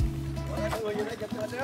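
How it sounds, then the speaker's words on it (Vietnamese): A small wooden boat's engine throbs low and loud for a moment, then gives way to rippling water while someone narrates over it. "Sau khi quay đầu xuồng, chú cho máy nổ lớn."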